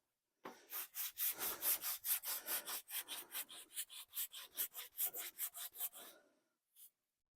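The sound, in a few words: sanding clear coat on 1976 Monarch with sandpaper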